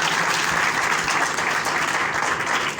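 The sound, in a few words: church congregation applauding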